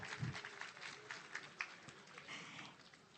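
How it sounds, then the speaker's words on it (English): An audience applauds at an Islamic economics and finance conference, a faint, distant patter of clapping that carries steadily throughout. "A round of applause."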